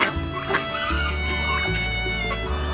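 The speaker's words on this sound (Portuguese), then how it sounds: "Aqui nós temos o nosso galo caipira, que tá bem feio, coitado, porque tá na muda de pena" Free-range chickens and a moulting free-range rooster cluck steadily in a farm pen, close and loud, with a few sharper calls over low background noise and no speech.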